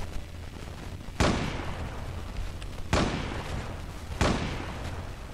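Heavy gunfire from the video game Zula, three separate booming shots spaced a second or two apart, each with a sharp attack and a long rumbling tail over a low background hum.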